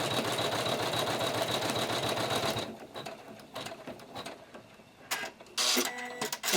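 An embroidery machine stitches gold thread onto an angel quilt square with a dense, fast mechanical whir. It runs loud for a few seconds, then drops to a quieter, intermittent whirring and clicking with a short renewed burst.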